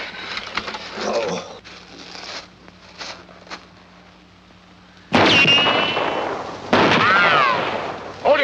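Gunfire rings out in a western film shootout, sharp loud reports with ricochet-like whines that come in a couple of sudden bursts after quieter moments with voices.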